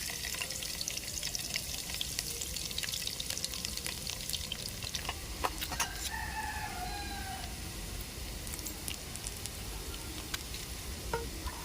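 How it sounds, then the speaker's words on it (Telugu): Crushed garlic and tempering spices crackle and sizzle continuously in hot oil, close and steady, while a rooster crows faintly in the background. "ముందుగానే దంచి ఎల్లిగడ్డ ఒక్క గడ్డ పోపులు వేసుకుంటున్నా"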